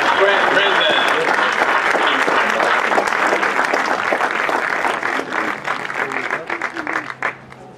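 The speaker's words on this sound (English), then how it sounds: "let's give one more round of applause for all of our seniors this year" A crowd at a school sports event's senior recognition gives sustained, loud applause that thins and fades toward the end, with voices mixed in.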